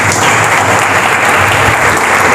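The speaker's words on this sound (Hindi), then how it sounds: "इनके लिए ज़ोरदार ताली बजाइए" Applause from an audience at a book launch, a steady dense clapping that fills the room loudly and evenly from start to finish, with no voices over it.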